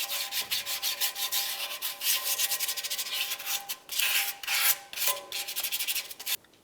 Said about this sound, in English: For this, we're just going to use some sandpaper. We'll give this a nice sanding